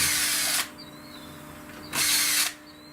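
A power drill backs screws out of an old weather station mount outdoors, in two loud whirring bursts of about half a second each, separated by a quieter pause.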